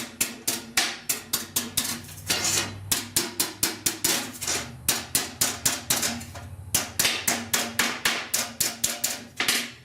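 A hammer taps a sheet metal patch panel against a dolly while shaping the inner roof of a 1969 Chevrolet C10: a long, steady run of sharp, close metallic blows in quick groups with brief pauses, and no voices.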